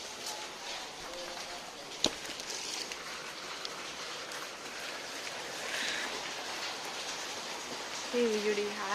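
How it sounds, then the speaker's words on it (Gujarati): Sudden rain falling during a night storm, a steady broad hiss of rainfall with a sharp knock near the start, while a person talks over it. "અત્યારે વરસાદ ચાલુ છે."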